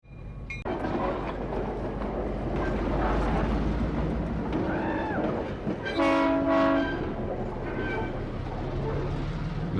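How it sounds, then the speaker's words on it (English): Freight train sound effect: a steady, loud rumble of rolling rail cars runs throughout, with a blaring multi-tone horn blast near the middle. "That's all the sounds of freight trains."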